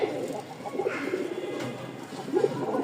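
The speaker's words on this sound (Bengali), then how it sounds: "দেখেন নটটা একটু ডাকানোর চেষ্টা করি, যেহেতু নতুন জায়গা, ডাকে কিনা।" A male pigeon in an unfamiliar new place gives soft, close, throaty coos in a few short rounded phrases against a quiet background.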